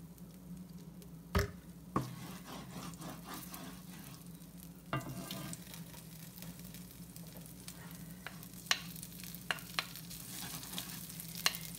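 Oil sizzling in a pan while black pepper shrimp is being cooked, a steady low crackle with scattered sharper pops and clinks, fairly quiet and without talking.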